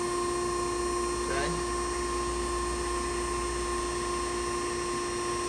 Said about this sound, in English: turn the grinding wheel on first so you can hear that